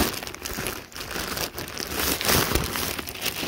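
Plastic packaging for a stuffed wolf plush being torn and ripped open, steady crinkling and tearing close by throughout, with no talking.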